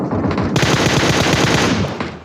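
Sustained automatic spray from an M4 assault rifle in a shooter video game, a dense rapid-fire burst of shots running loud and close for about two seconds with no talking.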